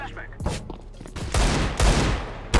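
Gunfire rattles through a first-person shooter video game, with scattered shots early and then dense bursts of rapid automatic fire, loud and close, ending on a final sharp crack, with no talking.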